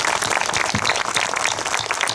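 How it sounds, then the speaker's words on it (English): Applause from the crowd at a Wreaths Across America ceremony, a steady, dense patter of many hands clapping close by that holds at an even level throughout, with no talk over it. "give them a round of applause just this moment"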